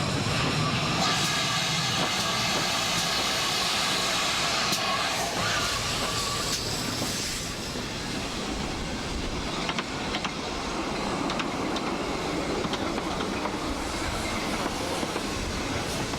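Steam locomotive City of Truro runs on rails at a heritage rail fest in York, producing a loud, continuous rumble with rattling wheels and faint clickety-clack through the whole stretch.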